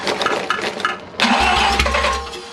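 A rotary engine being started for the first time on a stand, cranking in uneven bursts before catching with a sudden loud burst and rough, low running, close by, no talking.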